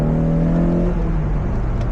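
A naturally aspirated Mazda Miata accelerates at wide open throttle, a loud steady engine drone with harmonic tones shifting in pitch as revs change, heard close from inside or near the car.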